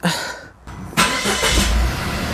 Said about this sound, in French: il ne reste plus qu'à démarrer la petite Swift